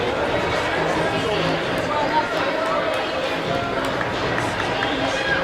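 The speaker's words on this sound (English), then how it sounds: "you might have heard the roar there" A crowd at a university volleyball match between UofC and BU raises a steady, dense roar of mixed voices and chatter that fills the whole stretch without a break.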